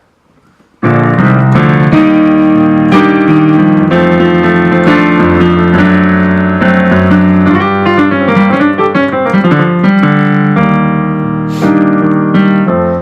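A song's piano run played at fast speed: a dense, loud cascade of rapid notes over ringing low chords, continuous and close, with no talking.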